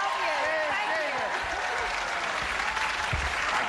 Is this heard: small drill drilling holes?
no